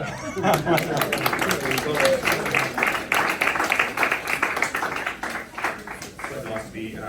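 A crowd at an Australian citizenship ceremony applauds right after singing the anthem, dense overlapping hand claps filling the room for several seconds before thinning out, with some chuckles and voices mixed in.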